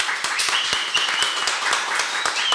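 An audience in a small studio setting claps loudly, a dense burst of applause with rapid sharp claps sustained evenly across the moment.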